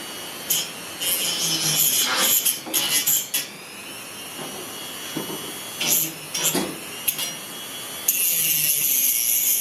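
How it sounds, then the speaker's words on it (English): A Dremel rotary tool grinding rust off metal: a continuous high-pitched whine with gritty scraping bursts as the bit bites in and eases off, close and loud throughout. "So the Dremel, turn it on, find the rustiest part"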